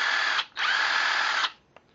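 An 18-volt cordless 1/4-inch hex impact driver whirs at high speed in a steady burst, stops briefly, then runs again for about a second before cutting off, with a small click after.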